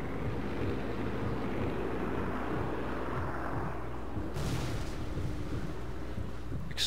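Deep, rumbling explosion from the video game Sniper Elite 4, a broad low boom rolling on for several seconds, with a brighter crackling burst near the end.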